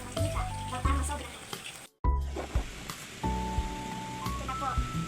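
Cooking oil sizzles and crackles in a pan, ready for frying garlic, a close continuous hiss broken briefly once, with a voice talking over it.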